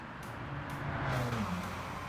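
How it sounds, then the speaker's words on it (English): Muted turbocharged engine of a 2013 Volvo V40 T5 R-Design in the racing game Gran Turismo 7, a steady rising drone with a faint whistling turbo tone climbing over it, continuous and without speech. "I think you're hearing more of the turbo than the engine."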